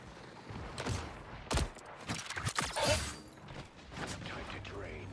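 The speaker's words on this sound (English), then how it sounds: "Mind the exploding plasma." Plasma weapons bursting and exploding in a video game firefight, a string of sharp blasts and whooshes scattered over several seconds, with a player's voice faintly in the mix.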